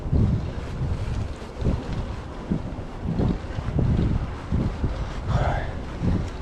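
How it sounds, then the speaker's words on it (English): Strong gusty wind buffets the microphone outdoors at the Chehalis trailhead, roaring in repeated low rumbling bursts that rise and fall throughout, loud and close with no other sounds standing out. "It's really windy right now."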